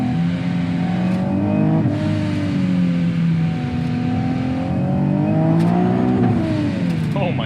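A supercharged 2019 Nissan 370Z with traction control off revs hard and downshifts, its engine note climbing and dropping in several sweeps close to the cabin, with brief tire noise.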